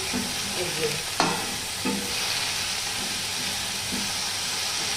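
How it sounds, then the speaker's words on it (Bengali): Potatoes and onions frying with salt in a pan, a constant sizzle broken by sharp spatula scrapes and knocks against the pan. "একটু নুন দিয়ে একটু আমি আলু পেঁয়াজটা একটু ভাজা ভাজা করে দিচ্ছি"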